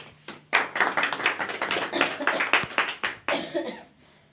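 A group at a welcome gathering of a Savitribai Phule service committee claps in uneven bursts, sharp nearby hand claps rising and falling over a few seconds with a little laughter, then trailing off.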